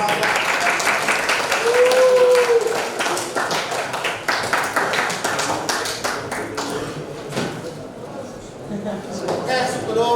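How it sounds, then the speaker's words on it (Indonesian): A biology class applauds after a student's presentation, a sustained round of close, crisp clapping from a room of people that gradually thins out, with a few voices underneath. "Beri tepuk tangan untuk Pak."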